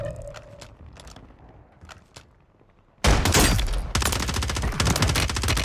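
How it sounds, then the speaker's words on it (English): Sniper gunfire in the shooter game Warzone erupts suddenly after a few quiet seconds of faint distant pops, becoming a loud, dense, continuous blast of shots and impacts that fills the rest of the moment. "He got sniped by his op across the map."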